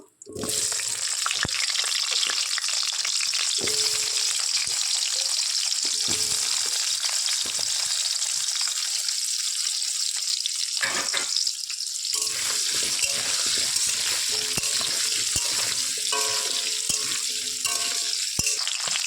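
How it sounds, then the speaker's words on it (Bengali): Potatoes frying in hot oil for a home-style paneer curry give a loud, steady, close sizzle and crackle that holds throughout, with occasional stirring clatter and faint background noise. "এই তেলে আমি এবার আলুগুলো ভেজে নেব।"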